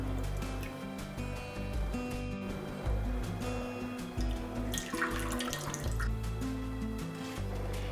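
Coconut pulp squeezed by hand to press out coconut milk gives faint wet trickling and dripping over a steady bed of background music.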